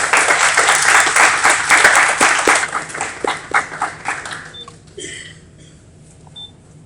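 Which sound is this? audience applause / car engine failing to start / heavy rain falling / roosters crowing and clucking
audience applause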